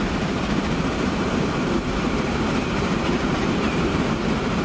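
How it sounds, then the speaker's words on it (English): A loaded iron ore freight train rolls past in Transport Fever 2, a steady, dense rumble of wheels and wagons that holds at an even loudness throughout, with no voices over it. "That might be another iron ore train."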